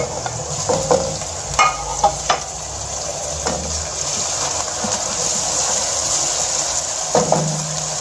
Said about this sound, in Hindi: अब हम इसके अंदर ऐड करेंगे अदरक लहसुन का पेस्ट।